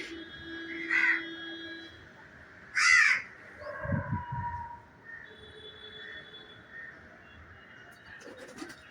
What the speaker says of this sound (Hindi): देखिए कौवे